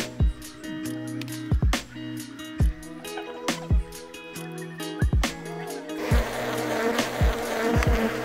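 Japanese honey bees (Apis cerana japonica) buzz steadily during a summertime honey extraction from traditional hive boxes, with repeated sharp knocks and clunks over the hum and a rougher, rustling burst near the end.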